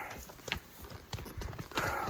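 Horses on a mountain hunting trip clip-clop along at a walk, a loose, uneven rhythm of close hoof strikes on the ground against a quiet outdoor background.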